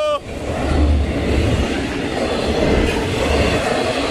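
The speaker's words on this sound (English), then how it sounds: "We got another cut of trailers." Norfolk Southern 211-20 freight train cars roll past close by with a loud, continuous rumble and rattling wheel noise, a brief squeal at the start.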